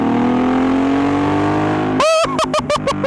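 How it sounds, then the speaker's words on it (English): A Suzuki Boulevard C50T motorcycle with an aftermarket exhaust idles with a deep steady rumble, then is revved in several sharp, loud blips that rise and fall in quick succession. "It's a great sounding bike, especially with the aftermarket exhaust we got on here."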